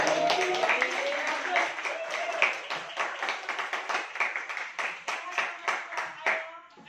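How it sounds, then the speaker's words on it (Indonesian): Students in a classroom applaud a presenting group, the dense clapping thinning into a run of distinct rhythmic claps before fading, with faint voices beneath. "tepuk tangan buat kelompok 1."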